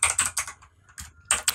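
Typing on a computer keyboard while coding responsive web layout: a few close, clear bursts of keystrokes with a short pause between groups, no talking.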